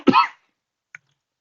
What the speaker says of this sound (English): We all have our coughs.